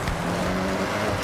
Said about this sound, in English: You can hear the engine has more power. The anti-lag working hard to keep the turbo spooled up.